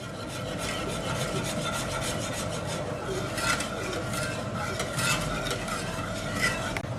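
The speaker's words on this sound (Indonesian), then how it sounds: "Kita aduk hingga mendidih dan sedikit mengental" A coconut milk and agar mixture being stirred in a pot as it comes toward a boil, giving a steady continuous scraping and rubbing with faint bubbling underneath for the whole stretch, without speech.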